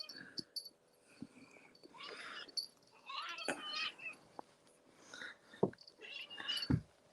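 Luna, a small kitten, lets out faint, strained meows and cries in a quiet room, mixed with scattered knocks and rustling nearby.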